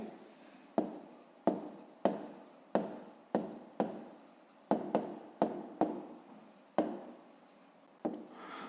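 A pen scratches out figures on paper for a math exercise, in a string of about a dozen short, crisp strokes, each starting sharply and fading, close and alone.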